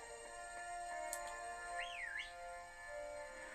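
An in-game whistle sounds in the video game Pokemon Shield, a short rising and falling melodic tone over steady background game music, with no talking.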